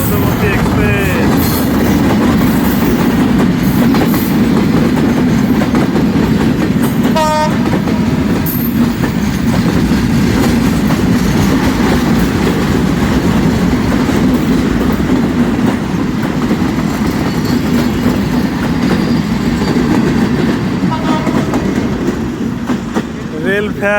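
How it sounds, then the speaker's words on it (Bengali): The Madhumati Express rumbles loudly past at Rajbari railway station, a continuous heavy roar of wheels and cars with short horn blasts breaking through. "দেখতে পাচ্ছেন মধুমতি এক্সপ্রেস।"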